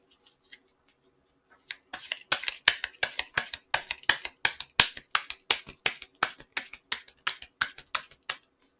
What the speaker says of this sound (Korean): 그리고 한번 좋은 카드 한번 뽑아보도록 하죠